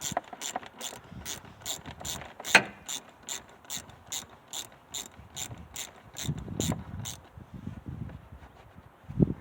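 A ratchet wrench loosens the bracket holding the air intake hose on a 2017 Mitsubishi Mirage G4, giving a rapid, steady run of close clicks. The clicks stop near the end, followed by softer handling and scraping noises.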